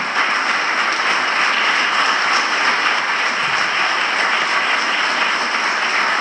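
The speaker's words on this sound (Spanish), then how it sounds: "el aplauso es para vosotros" Sustained applause from an audience at a diocesan choir directors' gathering, a dense, even wash of clapping that holds steady throughout without breaks or voices.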